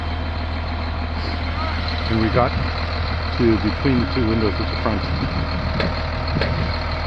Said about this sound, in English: Truck number 1 pulling out